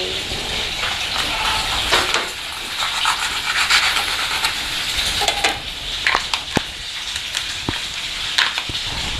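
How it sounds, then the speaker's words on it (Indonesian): Onions sizzling and crackling in hot oil, a steady hiss with scattered sharp pops, close by. "Nanti dia akan digoreng setelah kita goreng bawang ini"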